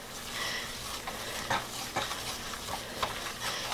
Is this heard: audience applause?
no